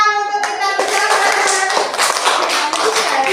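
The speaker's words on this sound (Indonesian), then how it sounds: "Tepuk tangan untuk kita bersama." After a short musical tone at the start, a classroom of students bursts into dense, continuous hand clapping, loud and close, filling the rest of the moment without speech.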